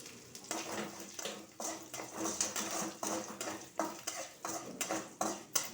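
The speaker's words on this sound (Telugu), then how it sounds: "ఇప్పుడు ఇందులోకి వేసి బాగా పోపులో కలిపేద్దాం" A spoon stirs cauliflower leaf chutney with jaggery into a hot tempering in a pan, rhythmic scraping strokes repeating about twice a second over a low sizzle, fairly quiet and close.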